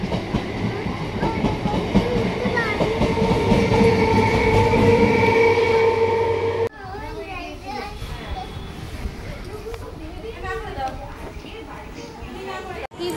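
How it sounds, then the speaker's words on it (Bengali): A train pulls out of a crowded station platform during a family trip, its steady rumble and rail noise loud for the first half before the sound shifts to busy platform ambience with voices talking and children nearby. "ওই ট্রেনটা ছেড়ে দিচ্ছে, আর ওঠা যাবে না।"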